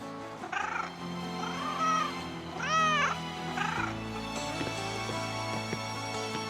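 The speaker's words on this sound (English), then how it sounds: "Oh, a cat." A cat in the video game Broken Roads lets out several drawn-out, warbling meows and caterwauls over a steady background music bed, close and prominent.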